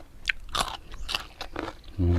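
Grilled food chewed close up, a few crisp bites and crunches spread across the moment, with a low hum at the end.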